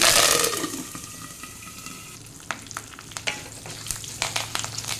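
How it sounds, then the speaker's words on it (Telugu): Asafoetida, dried red chillies and curry leaves hit hot oil with a loud initial burst of sizzling that settles into a steady fry, broken by sharp crackles and pops as the leaves spit. "ఇంగువ, ఎండుమిర్చి వేసుకుని ఒకసారి బాగా కలుపుకుని కరివేపాకు వేసుకోవాలి"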